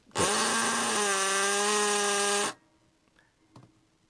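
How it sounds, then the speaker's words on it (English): A loud, steady high-pitched whine of a hammer drill with a cupped tool smoothing a metal axle end on a Dinky diecast toy van runs for about two seconds, then cuts off, leaving quiet clicks and faint handling noise. "the hammer drill with my special tool that has a little cup in there"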